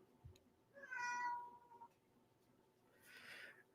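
A pet cat meows indoors, two distinct calls: a longer drawn-out meow followed after a pause by a shorter, higher one, fairly close and alone against quiet room tone.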